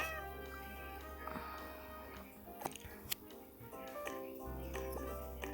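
Cartoonish cat meows from a video game chime repeatedly over tinkly background music, with several short mews and clicks scattered through the passage.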